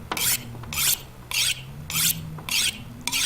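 A hatchet is sharpened on a whetstone in a video game, six even rasping strokes in a steady rhythm, close and clear with nothing else over them.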